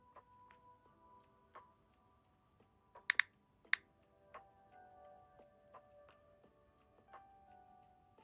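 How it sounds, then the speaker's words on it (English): Keystrokes on a computer keyboard tap out sparse, irregular clicks close by in a quiet room, with a couple of sharper louder presses midway and no voices. "I need to type it in honestly"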